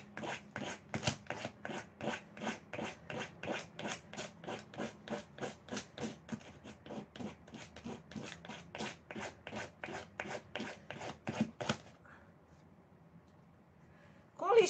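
A nail file rasping back and forth in quick, steady, regular strokes, close and clear, for about twelve seconds before it stops and a faint noise follows.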